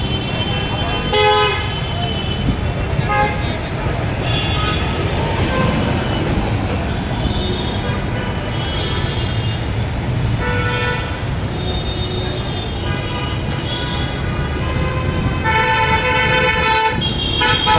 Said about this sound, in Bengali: সব দিকে খালি হর্ন আর হর্ন।